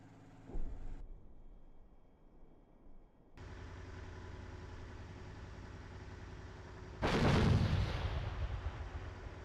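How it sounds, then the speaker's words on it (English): Video game battle with gunfire and artillery fire: a sharp shot near the start, a steady rumbling bed, then a loud broadband blast about two-thirds through that fades out slowly. "This is 4-1, we're taking fire here."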